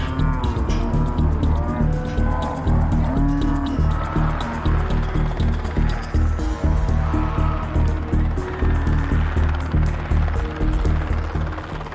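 Cattle moo loudly and repeatedly during a muster of about 3,000 head in outback Australia, overlapping low bellows from a large nearby herd against constant background noise.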